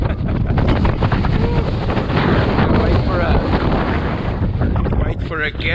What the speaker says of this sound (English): There are these gusts coming across the water here.